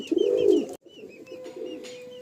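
A Madrasi pigeon in a loft gives one loud, close, rolling coo, and after a brief gap softer cooing from other birds continues alongside a faint steady tone.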